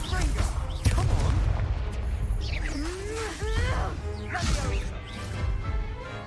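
Confringo fire-blast spell cast in the video game Hogwarts Legacy, with a burst of crashing, banging impacts and whooshing magical effects layered over a busy game soundscape, with voices speaking at points.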